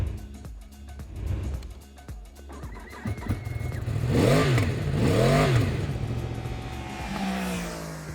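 A 2019 Yamaha YZF-R1 sport motorcycle engine revs up and down while riding, loud and close, with rising and falling whines over a steady rumble.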